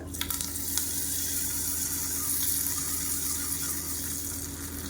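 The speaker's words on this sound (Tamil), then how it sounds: "கடுகு உளுந்து வரமிளகா கருவேப்பிலை போட்டு தாளித்ததை கொட்டிடுறது" A hot tempering of mustard seeds, urad dal, dried red chillies and curry leaves is poured over onion chutney, giving a dense, loud, continuous crackling sizzle with a few quick clinks at the start and no talk.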